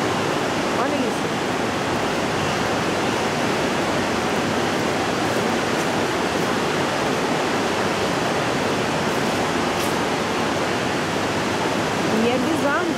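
Water rushes loudly and continuously through a channel in the Paris sewer museum, a dense, unbroken roar that stays steady throughout.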